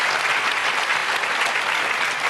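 A studio audience on a medical talk show claps hands together in a full, steady round of applause that stays loud and dense from start to finish, with no break.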